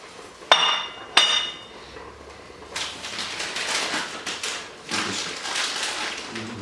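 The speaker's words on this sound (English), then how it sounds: "Let's grate some cheese for the family" Cheese is grated by hand for leftover spaghetti: two sharp metallic taps come first, then bursts of rasping strokes, close and moderately loud.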